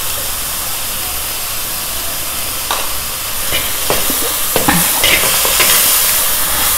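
Onion and garlic frying in a pan with a loud, close, constant hiss of hot oil, with spatula scrapes and knocks growing busier toward the end; no voices.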